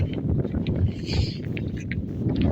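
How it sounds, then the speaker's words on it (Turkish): Strong wind on a beach buffeting a microphone, a steady low rumbling roar with gusty swells, loud and unbroken for the whole moment. "Rüzgar çok olduğu için kafa kamerasına kayıt yapmıyorum arkadaşlar aşırı rüzgar var."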